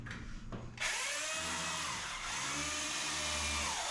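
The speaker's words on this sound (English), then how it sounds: "Before I apply this joint compound, and a lot of people call it mud, I'm gonna stir it first to make it smooth." A power drill whirs steadily as it stirs a bucket of joint compound (mud) during a kitchen remodel, its motor note rising after a brief start and holding loud and close with shifting pitch as the paddle churns.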